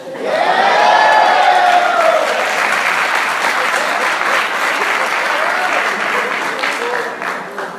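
A church congregation bursts into loud, sustained applause mixed with cheers and whoops, a dense crowd roar that swells early and then holds steady before easing slightly at the end.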